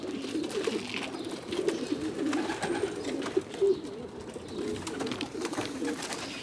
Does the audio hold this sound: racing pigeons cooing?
yes